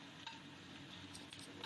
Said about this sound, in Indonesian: Oseng hingga harum